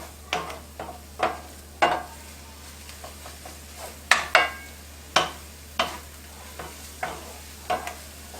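Scrambled eggs stirred in a hot frying pan, a utensil scraping the pan in quick repeated strokes a few times a second, each a sharp near scrape over a soft steady sizzle, with no voices.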